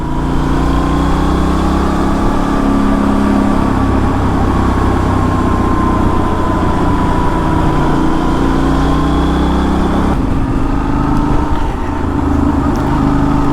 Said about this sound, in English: Some nice noises coming from that exhaust pipe